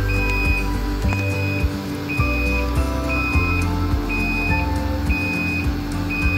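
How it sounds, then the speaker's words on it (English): Repeated electronic buzzer beeps sound at a steady interval of about one per second over a low machine hum and occasional clunks, from a PLC-controlled vacuum leak tester for bottles starting its vacuum cycle. "The vacuum process is started. It is indicated by a buzzer sound."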